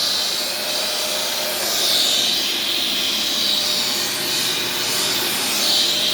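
An upright vacuum cleaner runs with its brush roll spinning, giving a loud, steady whooshing whine that holds continuously with slight swells and no voices.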